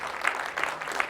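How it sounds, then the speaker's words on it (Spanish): A short burst of audience applause, a crowd clapping steadily for about a second with no voices over it. "Vamos a darle un fuerte aplauso al rey"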